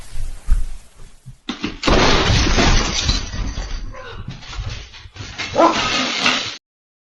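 A dog barks amid loud commotion with crashing and breaking glass, harsh bursts of noise filling most of the clip before cutting off abruptly.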